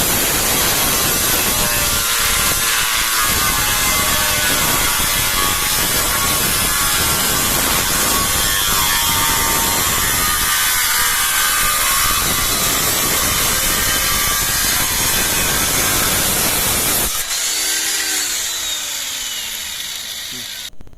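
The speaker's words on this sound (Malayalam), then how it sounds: "ഇപ്പോൾ ചെയ്യുന്നത് 14 ഇഞ്ച് നീളത്തിന് മാർക്ക് ചെയ്തിട്ട് അത് കട്ട് ചെയ്യുകയാണ്" A 6-inch-wide metal sheet is cut to 14 inches length with a power tool, a loud continuous grinding roar running for about seventeen seconds before cutting off abruptly, leaving a quieter fading whine.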